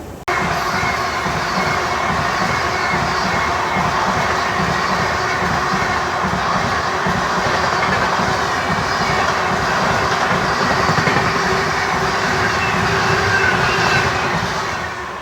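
The Konark Express passenger train rolls along the rails, a loud steady rumble with rapid rhythmic wheel clatter heard from on board, with a faint crowd murmur beneath and no talking.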